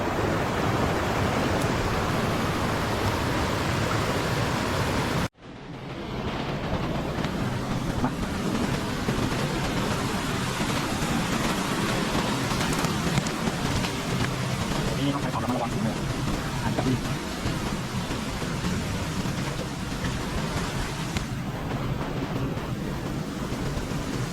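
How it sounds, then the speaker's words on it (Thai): A forest waterfall roars as a steady, loud wash of noise that briefly breaks off and then continues unbroken, with a voice talking over it. "ก็ได้ยินเสียงน้ำตกแล้วนะครับทุกคนเริ่มจะดังแล้ว"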